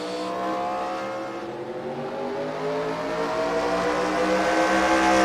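Several race cars roar around the Spencer Speedway short-track oval in a Bullring Racing Series event, engines droning steadily and building louder as the pack passes, with no voices.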